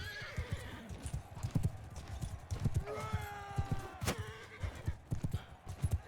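Horse hooves clip-clop and gallop in the video game Mount & Blade II: Bannerlord, a busy rhythmic pounding of steps with a horse neighing partway through, mixed with other game battle sounds.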